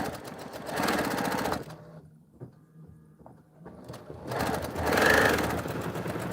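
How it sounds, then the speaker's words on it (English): A home sewing machine stitches quilt pieces together in two loud, fast bursts of rhythmic needle chatter, separated by a quieter pause with small clicks and handling sounds. "then I'll just sew those together"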